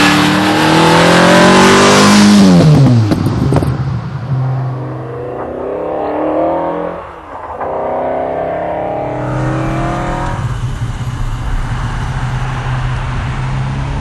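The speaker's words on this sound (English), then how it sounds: "I am driving the noisiest, most exciting and fastest car this side of a Lamborghini Diablo." A TVR sports car running TVR's own in-house engine accelerates hard, a loud rising revving roar that sweeps upward in pitch, then settles into a steady, close engine drone.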